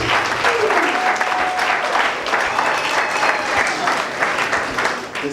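Dense applause from a crowd at a ceremony laying the foundation stone for a social housing programme, steady and loud throughout, with faint voices mixed underneath.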